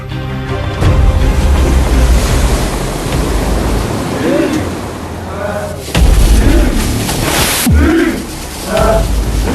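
Turbulent ocean waves surge and crash in a rough sea, with loud broadband roaring and heavy low-end booms swelling and breaking repeatedly, under a layer of music.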